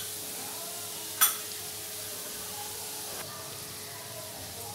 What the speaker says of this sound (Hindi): इसमें डालेंगे अब चॉप गार्लिक, इसको मिक्स करेंगे, इसको फ्राई करेंगे।